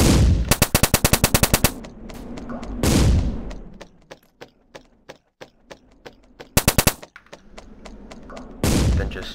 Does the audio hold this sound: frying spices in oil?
no